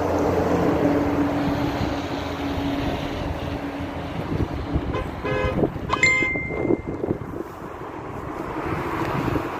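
Car horns honking in support of a convoy outdoors in Lyon, several short toots and honks clustered in the middle, heard over wind buffeting the microphone.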